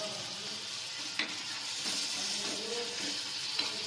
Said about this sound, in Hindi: टमाटे ऐसे से भून गए हैं